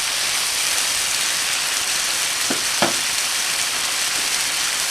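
Squid pieces sizzling in a hot pan for adobong pusit, a steady loud hiss of frying oil with a couple of brief crackling pops in the middle.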